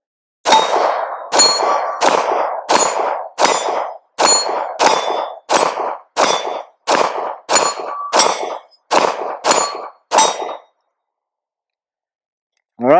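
Fifteen pistol rounds fired at steel targets from about 10 to 12 yards with a red dot sight, a steady string of loud sharp shots, each followed by a metallic ring, then silence.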